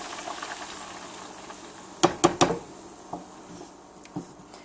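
Diced ingredient tumbles into spaghetti sauce cooking in a pan, a few sharp clatters and splats over a steady low sizzle, followed by lighter scattered knocks.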